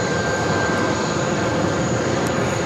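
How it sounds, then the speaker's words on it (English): Airbus A380 Super being pushed back by a tow rig at JFK airport: a steady, loud broadband engine and ground-equipment roar holds without a break, with a thin high whine running through it. "they got the tow rig connected to the A380, so we should be seeing them push back this A380 Super"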